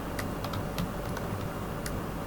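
Typing on a computer keyboard while working in Microsoft Excel, a handful of sharp, scattered key clicks at an uneven pace over a steady background hum, close and fairly quiet, with no voices.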